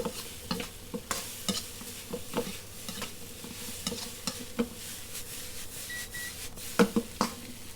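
Vegan butter stirred into vegan egg fried rice in a pan, with repeated scraping and stirring strokes over a soft sizzle, close and fairly quiet.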